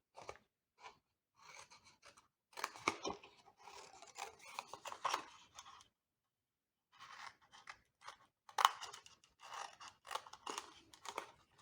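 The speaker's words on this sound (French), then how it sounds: "Et on va venir couper ici chaque angle" Scissors snip around the corners of Stampin' Up! card stock for a card sorter box, a quiet run of short crisp cuts in uneven bursts with a pause midway.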